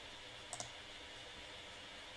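Computer mouse clicks in the BlueStacks app player, a quick faint double click against a quiet room hum, with silence after.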